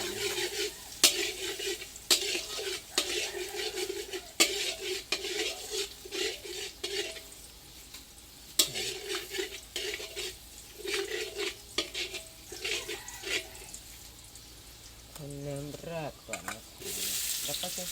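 Pork and eggs stir-fried in a pan for Thai-style fried eggs, with steady sizzling and repeated scraping stirs of a spatula, ending with a few clinks as another ingredient goes in.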